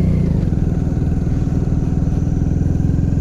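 A Hero Splendor Plus 100cc motorcycle climbs a steep mountain road in second gear, its single-cylinder engine laboring in a loud, steady, close-up drone with a continuous rhythmic chug.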